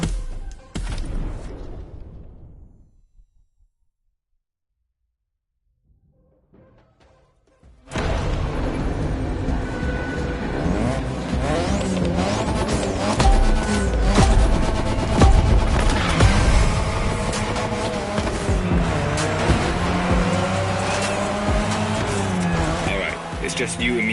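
Racing car engines roar and whine continuously with tire squeal in the racing video game The Crew Motorfest, loud and dense for most of the stretch after a brief opening sound and near-silent gap; voices speak over the engine noise.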